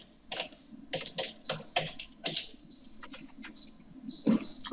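A command is typed on a computer keyboard in AutoCAD, heard as close, irregular bursts of key clicks that pause briefly midway, then resume with a few louder taps at the end.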